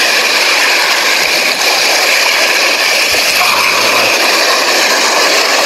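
Sea waves at a beach resort in Candelaria make a loud, steady rushing roar of surf that fills the whole stretch without letup.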